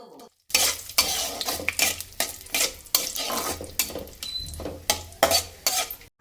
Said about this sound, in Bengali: এগুলো দিয়ে বেশ এবার তেলের মধ্যে নাড়াচাড়া করে নেব